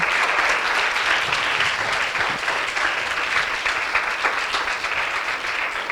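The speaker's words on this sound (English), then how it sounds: "Please clap for them." Audience applause at a history workshop session during a literature festival, dense and steady clapping from a sizable crowd that continues unbroken and fairly loud for the whole stretch.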